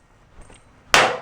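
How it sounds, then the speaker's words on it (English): A tool strikes the tough edge of material on a welding trailer, a single sharp clanging hit near the end after a faint earlier tap, close and fairly loud. "Trying to chip a piece of the edge off,"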